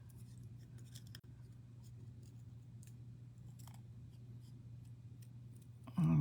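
Scissors snipping through cardstock while cutting a shape for a handmade stamped greeting card, faint quiet clicks over a steady low hum, with a louder close handling sound at the very end.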